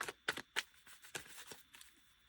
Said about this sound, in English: give a quick shuffle to this.